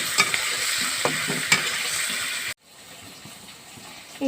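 Paneer cubes frying in a pan for palak paneer, a steady close sizzle with a few stirring clicks that cuts off abruptly midway, then a quieter hiss resumes.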